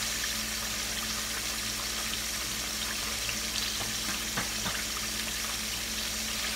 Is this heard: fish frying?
yes